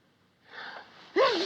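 A film character in the 1963 movie Charade gives a quick breathy inhale, then a sharp, voiced sneeze bursts out close and loud at the end.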